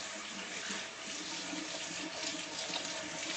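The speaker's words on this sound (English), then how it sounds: "Now I'm going to wash my hands." Water runs steadily from a kitchen tap for hand washing before cooking, a continuous close hiss and splash with no talking.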